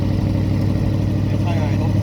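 A 1977 Chevy K5 Blazer engine running at high idle, a steady close rumble with an even pulsing beat throughout, while a person talks over it.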